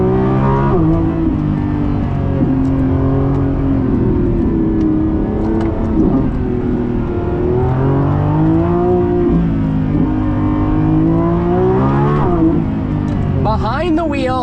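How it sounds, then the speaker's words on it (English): A Lamborghini Revuelto launches under launch control and accelerates hard, its loud engine climbing through the revs with quick upshifts, recorded from inside the car. "let's take it out for a spin and do a launch control"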